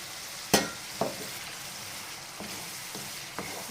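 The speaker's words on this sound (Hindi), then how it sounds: "तो हम मसाले को अच्छी तरह भूनते हैं।" Masala spices with Kashmiri chili fry quietly in a pan for a spinach and egg dish, a soft steady sizzle broken by a few sharp clinks of a spoon against the pan.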